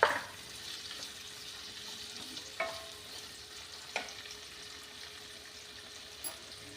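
Red chillies roast and stir in a pan for a chilli chutney, giving a soft continuous sizzle broken by a handful of brief scraping knocks, close and moderately quiet.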